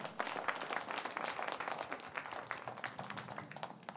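Congregation clapping during a church sermon, a steady, dense patter of many hands filling the room at moderate distance without any speech over it.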